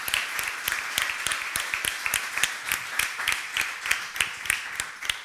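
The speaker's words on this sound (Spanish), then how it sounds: "pido un fuerte aplauso para ellos porque se lo merecen" Audience applause at the closing ceremony of the Anaga Biofest 2025, a moderate crowd clapping in a brisk, fairly even rhythm with individual claps standing out, close and sustained throughout.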